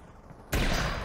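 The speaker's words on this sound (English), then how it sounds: "Avoid gunfire from helicopter." Quiet hum, then an abrupt loud burst of rapid continuous gunfire from a helicopter in a VR video game that keeps rattling to the end.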